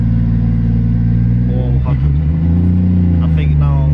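A single-turbo Toyota JZX100 holds a loud, steady engine drone on a dyno, its pitch climbing and wavering as the pull goes on, with people talking over the noise.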